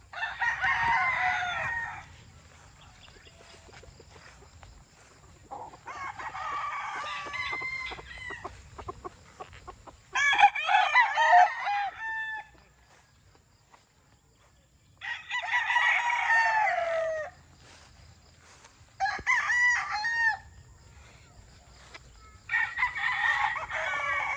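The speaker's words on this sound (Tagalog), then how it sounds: "gusto ko ipakita ang munting manukan ko na pinagkakabisihan ko ngayon" Gamecock roosters at a small farm crow in repeated bursts of several seconds with quiet gaps between, joined by softer clucking, fairly near and clear.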